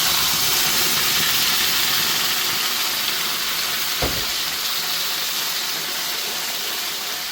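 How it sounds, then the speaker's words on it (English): Plum tomatoes hit a hot pan for butter chicken sauce, giving a loud, steady sizzle and hiss close by that continues unbroken throughout with no talk. "I'm now going to add some plum tomatoes."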